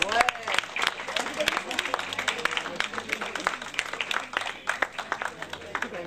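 An audience at a 2005 fashion show in La Puisaye claps through the room, an uneven patter of hands that rises and thins over six seconds while a voice talks over it.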